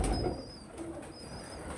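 Pigeons coo softly at a home loft setup, low repeated murmurs under a faint whistling tone and a steady background hum.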